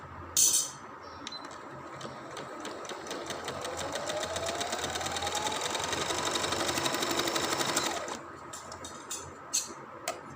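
A sewing machine stitches a seam on trouser fabric, a fast, even rattle of needle strokes that speeds up, runs for several seconds and stops, with faint handling clicks before and after.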